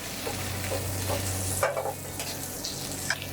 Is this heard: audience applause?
no